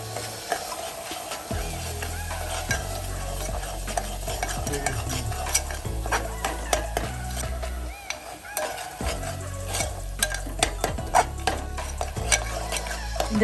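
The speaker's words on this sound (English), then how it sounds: "Saute this mixture for about half a minute." Steady sizzling and frying of a spice mixture with garam masala in a pan, with repeated scraping and stirring clatter of a utensil, fairly close and continuous throughout.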